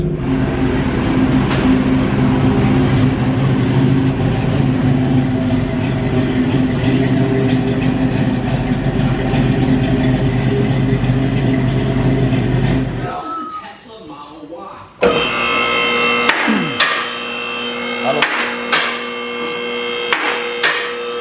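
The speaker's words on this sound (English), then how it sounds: "one of the baffles actually broke, so it's rattling inside there and everything. It just sounds like crap" A 454 big block 1969 Camaro with a broken exhaust baffle runs with a loud, rough, droning exhaust for several seconds before cutting off, followed by clanks and knocks.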